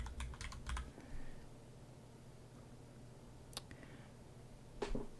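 Keys on a KEMOVE K68 keyboard clatter in a quick burst, then fall quiet before a few scattered presses return, crisp and close over a low room hum.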